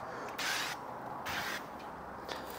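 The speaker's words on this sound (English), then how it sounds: "You just like spray it on your pans when you're cooking and shit." ESN oil spray is pumped onto a grill pan in three short, close hissing bursts spaced about a second apart over a quiet kitchen background.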